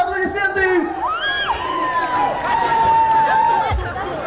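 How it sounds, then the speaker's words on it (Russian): Concert crowd at a 1998 open-air pop show in Izmaylovo cheers and whoops loudly, with shouting voices and children's calls rising over a steady crowd roar, close and full. "Ваши аплодисменты!"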